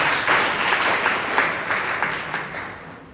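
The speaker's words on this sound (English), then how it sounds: "just clap your hands for yourself" A seated audience claps hands together in a full, steady round of applause with faint rhythmic pulses running through the dense clapping.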